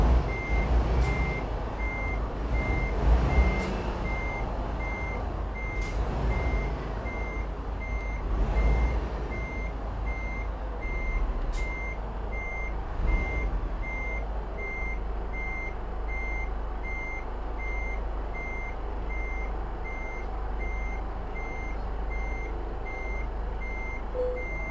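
A truck's reversing alarm beeps at a steady, even rhythm while it backs a trailer in a trucking simulation game, sitting over a constant low engine rumble with a few brief knocks.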